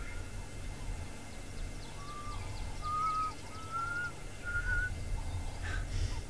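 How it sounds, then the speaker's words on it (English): A black cuckoo calling in the African bush, a series of clear whistled notes with a fourth note added, moderately distant over steady low background hum. "This cuckoo's got a funny little addition to its call."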